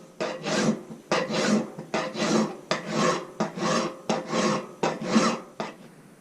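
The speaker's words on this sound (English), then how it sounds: "we did some filing to the pole, took care of some of that little mushrooming" Hand file rasping across the steel pole of a Jersey axe head to remove mushrooming, seven close, rhythmic grinding strokes, each a short burst separated by brief pauses, with no talking.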